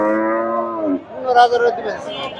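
A Friesian cow lowing at a busy cattle market in Bogura: one long, loud, close moo that fades, followed by people talking and market chatter in the background.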